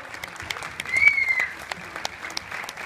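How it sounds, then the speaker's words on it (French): Cinema audience at a film screening applauding to welcome the film crew, a fairly faint wash of clapping that swells briefly and then tapers off, with a short high whistle near the start. "Vous pouvez les applaudir si vous voulez vous appeler."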